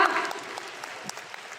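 Brief burst of audience applause for a boss at a leadership training meeting in Kuala Lumpur, a dense patter of clapping that begins loud and thins out over a second or so.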